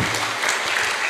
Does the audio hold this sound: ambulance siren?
no